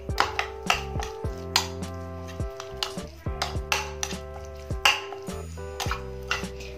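A spoon stirs pea paste mixed with lemon juice and black pepper in a bowl, giving a steady series of close, ringing clinks and scrapes against the bowl with short pauses between strokes.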